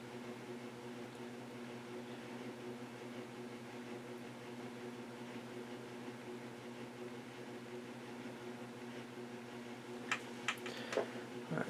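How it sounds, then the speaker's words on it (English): A pottery wheel turns steadily at a slowish speed while a spouted mixing bowl is thrown, giving a faint, even mechanical hum with a few light clicks near the end. "The wheel's going a little slower than I like."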